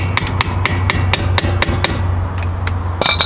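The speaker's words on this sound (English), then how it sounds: "And then you put your cap back on and just give her a good tap" A hammer taps the dust cap onto the spindle of a VW Beetle with drop spindles fitted: a quick, even run of sharp metallic knocks, close and loud, then a brief pause and a final cluster of taps.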